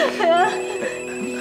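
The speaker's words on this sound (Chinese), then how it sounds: "我接电话。" A telephone rings in a family drama scene, a short electronic ring with a steady tone, heard close and mixed with voices.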